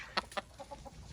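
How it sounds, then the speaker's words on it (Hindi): A hen clucking while laying an egg on a farm where goats are also kept, giving a few short, sharp cackling calls spaced irregularly over a quiet background, close by and alone without talk. "रानी मुर्गी मेरी अंडे दे रही है"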